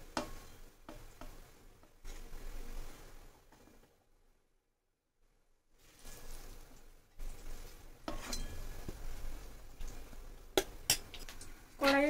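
Oil heats and fries in a wok, giving a soft sizzle broken by utensil clicks and stirring clatter. The sound drops to a brief silence midway, then returns with sharper metallic taps.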